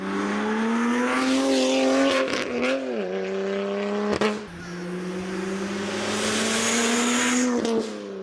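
A BMW M3 engine drones steadily while driving, its sustained tone rising and dipping with throttle changes, with a brief lift around a gear change midway, loud and close throughout with no talk.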